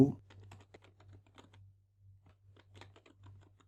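Code being typed on a computer keyboard for a PHP loop: quiet, quick irregular key clicks in short bursts over a low steady hum, close but faint.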